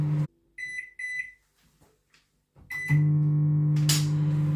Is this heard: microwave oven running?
yes